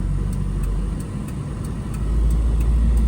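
A Daihatsu Move three-cylinder kei car on the move, its steady low engine drone and road rumble continuous and close throughout, swelling slightly toward the end.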